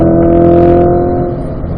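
A car accelerates out of a turn at a track driving session, a steady loud engine drone with strong harmonics holding even and then easing slightly, with no talk over it.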